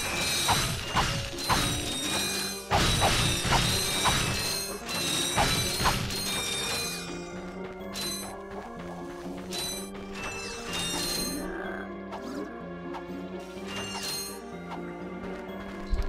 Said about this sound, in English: Simply tapping the square button will allow Ratchet to swing his wrench from side to side.